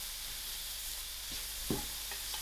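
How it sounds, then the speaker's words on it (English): Mixed vegetables fry with biryani dhal in a pan, making a faint, steady sizzle with a few soft stirring knocks. "I'm just going to add in my mixed veg. Give this a nice mix"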